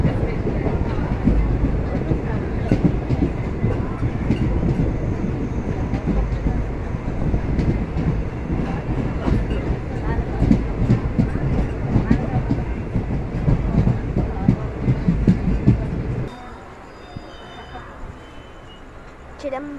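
The Chentur Express passenger train rumbles and rattles with steady clickety-clack on the rails as it pulls into Chidambaram station, loud and continuous before easing to a quieter hum near the end.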